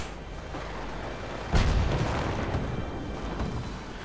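A Company of Heroes artillery barrage, with one deep booming impact followed by rumbling, crackling aftermath and a few smaller distant thuds, moderately faint in a game mix.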